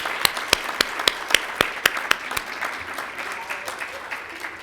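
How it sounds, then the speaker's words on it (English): Audience applause for committee members at a university awards ceremony for excellence in multiculturalism, a burst of sharp claps that starts crisp and strong, then thins and fades into scattered clapping over several seconds. "Let's give them a round of applause."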